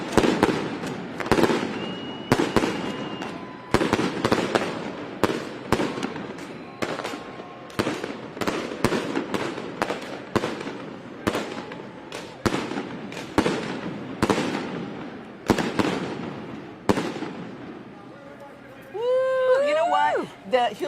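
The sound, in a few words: fireworks from the Hewlett-Packard fireworks barge at a boat parade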